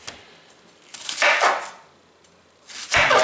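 A knife chopping an onion on a cutting board, a few crisp, close cuts in two short bursts separated by a quiet gap.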